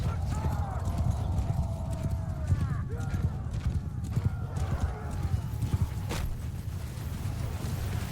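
Many cavalry horses gallop in a dense, continuous rumble of hooves in the video game Mount & Blade II: Bannerlord, with occasional whinnies and voices calling out over the clamor.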